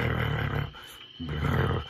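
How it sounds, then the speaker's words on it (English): A lion roars twice, deep and rumbling, with a brief pause between the two powerful calls. "the mighty lion roars tonight"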